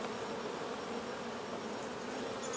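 Honey bees buzz continuously around a double deep eight-frame hive in spring, a dense steady hum heard close and alone.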